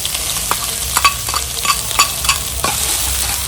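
Beef and spices stir-fried in hot oil in a pan for a holy basil dish, with a loud close sizzle broken by repeated sharp scrapes and clinks of a spatula in an uneven rhythm, and no voices.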